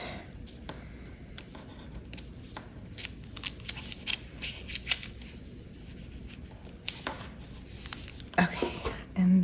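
Scissors snip and trim a paper piece for a spooky-themed junk journal made with tracing paper, giving a series of close, crisp irregular cuts and paper rustles, with a few louder handling clicks near the end.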